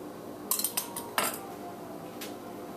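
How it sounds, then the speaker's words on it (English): A half-tablespoon measuring spoon is levelled off in a home kitchen while baking raisin bread, giving a few quick, light metallic clinks and scrapes of utensils close by, then a brief pause and one last soft tap. "I happen to have a wonderful 1/2 tablespoon measure that comes in handy for lots of recipes, and I'm going to level that off"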